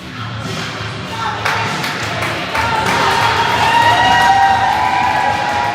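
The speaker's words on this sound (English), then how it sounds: "Luke getting some good applause for his contribution." Crowd at a bantam youth hockey tournament game in Luverne, Minnesota, clapping and cheering in a steady, loud swell of applause filling the rink throughout.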